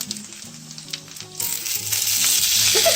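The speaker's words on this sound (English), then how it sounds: "listen to that snap, crackle, pop there. And that is the liquid that's inside the kernels hitting the oil" Corn fritters fry in hot oil, with a soft sizzle that swells into a louder, dense crackle and scattered pops as the kernels release liquid, heard up close.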